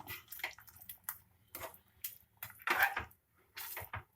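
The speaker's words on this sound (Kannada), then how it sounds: "ನಾನು 1 ಗ್ಲಾಸ್ ನೀರು ಹಾಕ್ತಾ ಇದ್ದೀನಿ" A glass of water is poured into a pot of country chicken curry (nati koli bassaru), heard as quiet short splashing bursts with a few soft clinks of the pot in between, and no one speaking.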